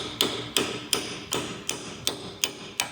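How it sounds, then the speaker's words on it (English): Hammer striking a punch to dent a spindle nut locking tab during a CV axle change, eight sharp metallic taps at a steady rhythm about a third of a second apart, close and clear with no talking. "Hammer and a punch. You want to dent it in right here with a spindle nut so the locking tab stays in place."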